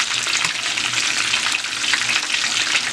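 Attieke sauce frying and thickening in a pan gives a steady, dense sizzle with soft bubbling underneath, close and continuous with no voices.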